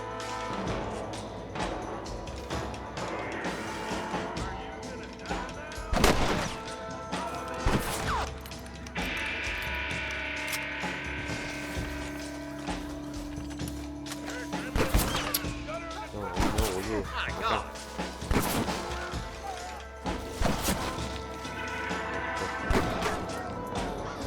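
Gunfire in the Western video game Red Dead Redemption on PS3: a few sharp, loud shots scattered across the scene, ringing out over a busy backdrop of game ambience and music.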